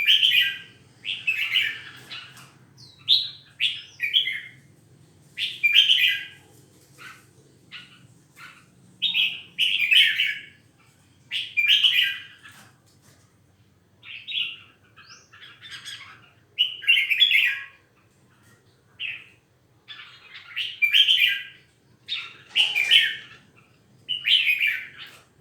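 A songbird chirps in repeated bright bursts of quick tweets and trills, close and loud, with short silent gaps between phrases.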